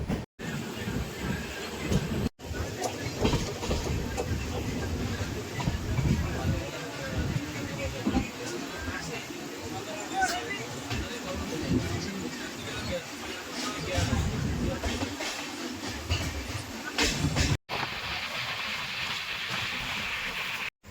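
Padatik Express pulling into Bardhaman Junction railway station, a steady rolling rumble and hiss with faint wheel clatter throughout, heard from on board with a voice speaking over it.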